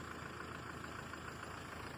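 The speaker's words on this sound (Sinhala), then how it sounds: "මහේන්ද්‍ර එක 415 එන්ජින් එක." A Mahindra 415 four-cylinder tractor engine idling, a low, even diesel drone that holds steady throughout, faint and somewhat distant, with no voices.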